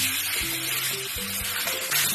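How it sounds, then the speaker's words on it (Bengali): New potatoes stir-fried in a pan give a dense, continuous sizzle with a few soft scraping stirs, close up and steady throughout. "আলু খুব ভালো করে কষে নিচ্ছি,"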